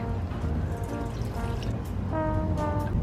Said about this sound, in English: I think if I give them a little bit of water.